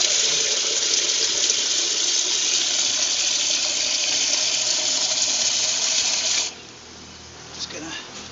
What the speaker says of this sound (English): now we're just going to put the water in